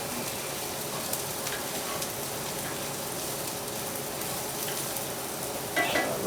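Garlic frying in a pan for seafood paella, a steady bright sizzle holding at a constant level throughout, close and fairly quiet, with a slight swell of crackle near the end and nobody talking.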